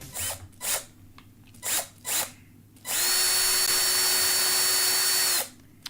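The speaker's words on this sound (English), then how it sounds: "This is an electronic screwdriver." An electric screwdriver runs in a single sustained whirring burst of about two and a half seconds with a steady pitch, loud and close, after several short broadband rustles.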